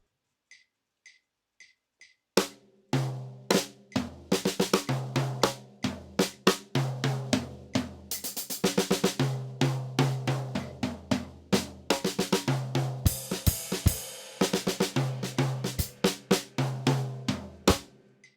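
A drum kit plays a solo in seven built on the clave pattern: a few soft clicks lead in, then close, punchy kick, snare and tom hits fall in a repeating uneven groove with cymbal crashes, no voices.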